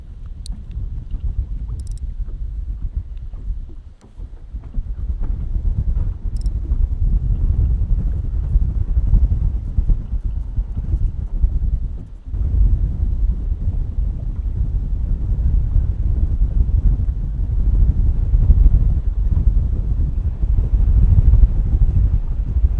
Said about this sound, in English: the wind is really howling